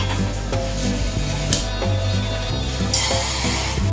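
Onion and chili frying in a hot pan at home, giving a steady, close sizzle with occasional scraping and stirring clatter, and no voices over it.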